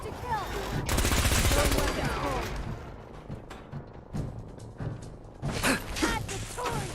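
Gunfire in Fallout 4 VR: a dense burst of rapid shots near the start, then scattered bursts later over a noisy, chaotic game backdrop with faint voices.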